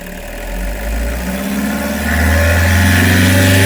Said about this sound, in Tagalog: Start natin yung engine